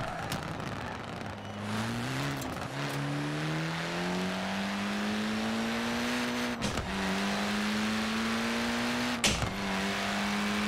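A Mitsubishi Eclipse's engine in Forza Horizon 4 holds a rising, sustained drone through the gears, with two brief shift dips while overtaking another car during a race, loud and steady with no talk.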